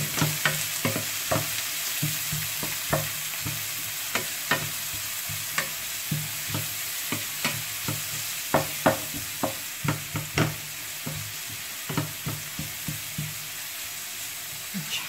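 Onions sizzle in hot oil in a pan as vegetables and kofta are readied, with a steady crackling hiss and frequent sharp clicks of stirring at a quick, uneven rhythm, close and moderately loud with no talk.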